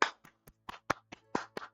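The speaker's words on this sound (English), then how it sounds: "I'm clapping." About eight sharp hand claps in an uneven rhythm, close and loud, with no talking, during a tabletop game session.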